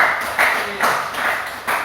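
Classroom applause for a student group, a steady patter of many hands clapping in bursts for under two seconds, fairly close and moderately loud.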